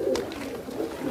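Kaldum pigeons kept by a pigeon fancier in Sambhal give a low, throaty coo, close and steady, with a faint brighter call mixed in.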